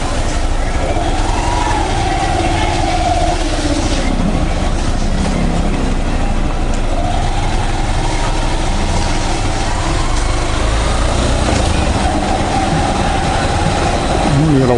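Honda motorcycle riding through busy street traffic, with a steady, loud engine and road rumble throughout and speech faintly over the top.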